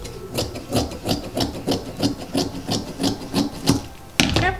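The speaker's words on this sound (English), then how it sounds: "just cut the edges just a little bit." Scissors snip around the edges of tulle for a hair bow, giving a steady run of short, close crisp cuts of even loudness with no talk.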